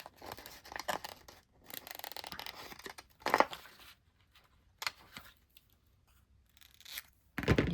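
Scissors cutting paper for a file folder craft: intermittent close snips and crisp paper rustles in short bursts separated by quiet pauses.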